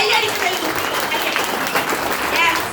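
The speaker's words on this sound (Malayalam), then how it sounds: "MC ചെയ്ത നവാസ് സാറിനെ നമുക്ക് നിറഞ്ഞ കയ്യടി കൊടുക്കാം" Audience applause at a meeting in Tirur honouring the MC, a dense steady clapping from a crowd that holds throughout without pause.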